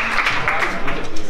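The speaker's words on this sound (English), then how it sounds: "Give yourselves a round of applause for just making it out for this awesome" Brief applause from the audience at a Jersey City tech meetup on education technology: a short burst of scattered claps, close and fairly loud.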